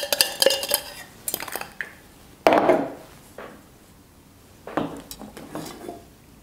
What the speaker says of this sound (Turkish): Şimdi kahveyi şekleyeceğiz.